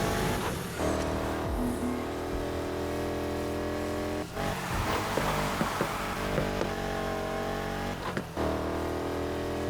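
Car engine racing in Need for Speed Heat during circuit and sprint races, a loud continuous roar with shifting pitch as it revs, brief dips at gear changes, with no voices.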